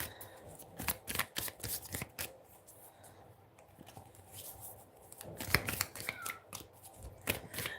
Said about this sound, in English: I'm gonna pull some cards more on this.